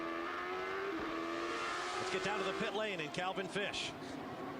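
A Champ Car race car engine at Brands Hatch during a 2003 race screams at high revs and climbs through gear changes, with Portuguese commentary talking over it throughout.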